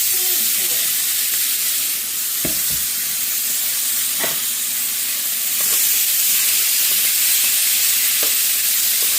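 Peppers and Vidalia onions for fajitas sizzle loudly in a hot cast iron pan, a bright continuous hiss punctuated by occasional clacks of stirring, with faint talking in the background.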